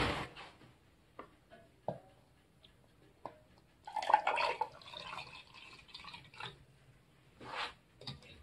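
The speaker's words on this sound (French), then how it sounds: "Je vais encore finir pour remplir le pot pour être sûr d'avoir mon litre." Water poured into a one-litre jar while preparing fruit kefir, heard as a few soft drips and splashes followed by a short burst of pouring, fairly quiet and close with no talk.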